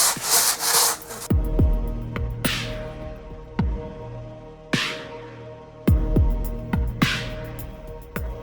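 Slow, rhythmic rubbing strokes of a scouring pad across a wood surface, each pass a close, raspy scrub with brief pauses between them.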